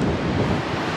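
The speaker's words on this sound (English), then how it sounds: "It's super windy." Strong wind in Melbourne buffets the microphone with a loud, steady roar and no voices.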